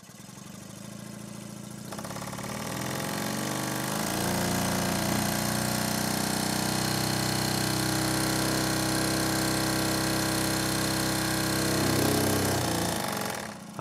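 A vintage Stuart Sirius model steam engine running on compressed air starts up and settles into a steady, fast mechanical chuffing hum, growing louder and holding an even rhythm.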